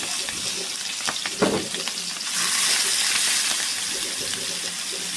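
Bamboo shoot rolls fry in hot oil in a home kitchen, giving a steady, loud sizzle that swells partway through, with a few stirring clatters.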